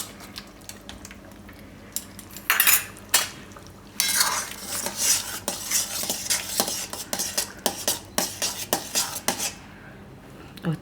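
A spoon scrapes steadily around a pan of mixed dal vadi curry with cream, the strokes clustering into a busy, continuous stretch of stirring over a low background hum.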